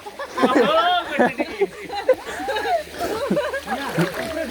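Water splashing as someone wades waist-deep into the pool below Adhuri waterfall near Sylhet, with irregular nearby splashes mixed under steady talking and a few chuckles.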